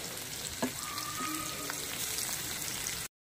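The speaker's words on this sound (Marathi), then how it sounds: "त्याच्याच एक साईडला आपल्याला सोडायचं आहे कोळंबी तेलामध्ये, म्हणजे ती छान तेलामध्ये फ्राय होईल मसाल्यासोबत" Prawns fry in hot oil with masala, giving a steady, close sizzle and crackle throughout, with a brief clink of utensils early on.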